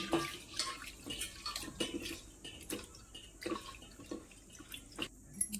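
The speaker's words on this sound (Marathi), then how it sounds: "ही तुरीची डाळ आहे ना आपल्याला धुवून घ्यायची आहे स्वच्छ पाण्याने" Toor dal being rinsed in clean water, with faint splashing and dripping sounds that recur irregularly at close range.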